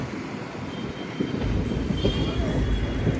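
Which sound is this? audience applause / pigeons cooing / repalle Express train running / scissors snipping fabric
repalle Express train running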